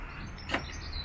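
Charge port door on a UK Tesla Model 3 opening, a single short, soft motorized whir that is faint and brief against quiet background, with no talking.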